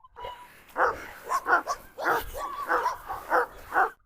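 A Cane Corso barks and yelps in a string of rough, close bursts during a dog scuffle, loud irregular barks with whimpering between them.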